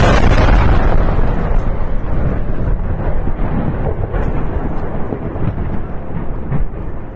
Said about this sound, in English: This is the second massive explosion you see.